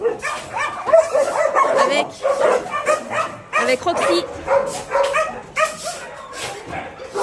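Large dogs in the big yard of an animal shelter in Bečej, Serbia bark and yip repeatedly, close and loud, with a person talking over the barking.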